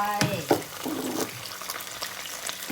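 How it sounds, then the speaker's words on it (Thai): Fish balls stir-frying in a hot pan with fish sauce splashing in, giving a brief sizzle and scrape bursts that fade into a soft crackle, fairly faint. "ใส่น้ำปลาลงไป"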